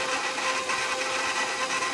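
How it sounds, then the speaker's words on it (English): Electric stand mixer with a paddle attachment mixing pie crust dough on speed 2, a loud, steady whirring motor hum with scraping texture running continuously and up close. "we're going to hear the mixer for a little bit"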